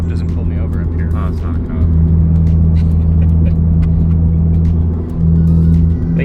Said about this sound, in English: definitely going through the gears, it feels way more solid